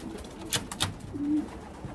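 Racing pigeon hen giving a short low coo amid a few soft fluttery sounds, close and fairly quiet, lasting only a moment.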